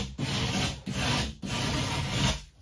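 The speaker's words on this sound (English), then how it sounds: "So I'd normally rasp this down, this edge. But you can do it with the back of the blade sideways off," Back of a blade scrapes sideways along a plasterboard edge in three close, rasping strokes, each a steady gritty scrape with brief pauses between.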